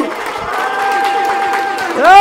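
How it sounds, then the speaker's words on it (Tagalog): Crowd at a rap battle competition claps and cheers loudly for a couple of seconds, the noise swelling toward the end, with a voice calling out over it. "akin pong hinihingi ang malakas na palakpakan at sigawan ng bahay katay"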